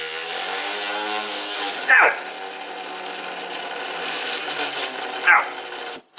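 A homemade brushless LEGO motor runs at full speed while being held toward a stall. It gives a steady, close, buzzing whine throughout, broken by two brief sharp bursts, and cuts off abruptly at the end.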